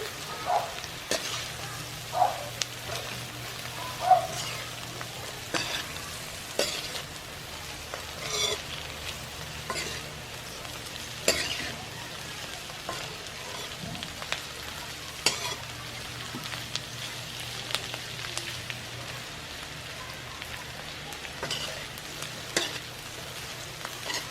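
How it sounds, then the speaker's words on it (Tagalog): Sliced tofu frying in a pan as it is stirred: a steady, rain-like sizzle with intermittent scraping and clacking strokes from the utensil, close and continuous. "sunod na po natin ang ating nahiwang tokwa. Haluin po natin."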